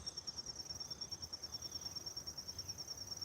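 Crickets chirp steadily in a fast, even pulsing trill, continuous and fairly faint, with no other sounds.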